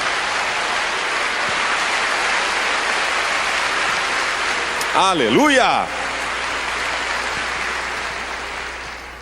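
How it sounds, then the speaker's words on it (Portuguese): Church congregation applauding at a Brazilian evening worship service, a steady broad wash of clapping under a shouted exclamation and talk, with a short rising-and-falling whistle-like squeal near the middle. "Você pode dar um aplauso"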